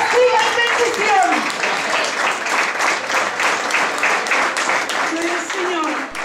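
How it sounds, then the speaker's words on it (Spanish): A congregation applauds at the reinauguration of a church in Villa Prat, steady, dense clapping from a nearby crowd lasting several seconds, with voices and cheers mixed in. "Damos un aplauso."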